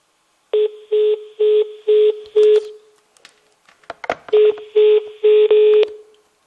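Two bursts of telephone touch-tone dialing, each a quick run of five or six evenly spaced beeps, loud and close, with a short gap of faint clicks and rustle between them.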